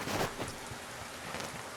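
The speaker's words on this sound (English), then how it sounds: "Take a moment to enjoy the wonderful sounds of the rain" Rain falling in the video game Multicraft, a dense broadband patter that swells briefly near the start then settles into an even, quiet wash with no talking.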